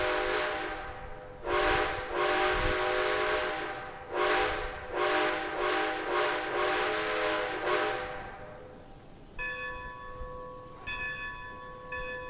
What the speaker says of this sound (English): You hear the train?